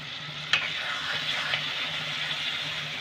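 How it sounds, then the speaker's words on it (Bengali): Boiled mung dal is poured into a pan of spiced jackfruit that is already frying. A steady, soft sizzle runs throughout, with a brief splash and a light stirring clatter near the start. No one speaks. "এবার আমি সিদ্ধ করে রাখা মুগ ডালটা ঢেলে দিলাম।"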